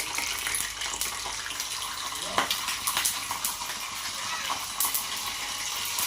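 Mustard seeds, cumin, chana dal and urad dal sizzle in hot oil for a peanut chutney tempering, a steady close crackle with a few sharper pops, under a speaking voice.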